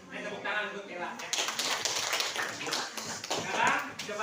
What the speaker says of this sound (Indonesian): Tepuk tangan untuk Tela ya.